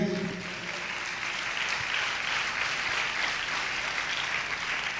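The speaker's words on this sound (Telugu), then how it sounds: "అందరు చప్పట్లు కొట్టండి గట్టిగా." A church congregation claps loudly together, a dense and steady wash of applause that fills the room for several seconds after a brief bit of speech at the start.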